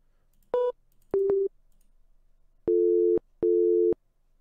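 A phone busy signal in the video game Simulacra sounds in short tonal beeps, close and clean against silence, with two brief pulses followed by two longer ones.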